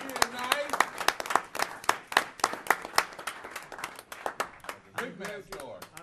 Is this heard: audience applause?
yes